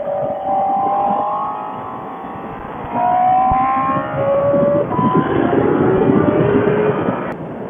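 A motorcycle engine revs up loudly and close by as the clutch is popped, its whining pitch climbing in several rising sweeps with a steady roar underneath.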